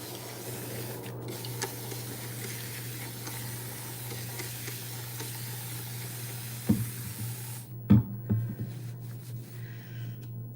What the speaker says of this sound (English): this is the first time me doing this with the spray bottle and trying to lather up as much as I can with him